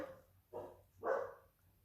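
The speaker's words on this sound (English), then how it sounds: "There goes the doggies barking." Two short dog barks sound at a distance, quiet and spaced about half a second apart, with a low hum underneath.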